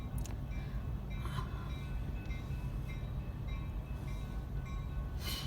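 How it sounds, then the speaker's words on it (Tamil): A vintage local train rolls past with a steady, loud rumble and rattle of its cars, and a few brighter metallic squeals rise above the continuous drone. "ட்ரெயின் போகுது."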